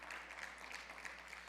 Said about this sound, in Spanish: dándole un fuerte aplauso al Señor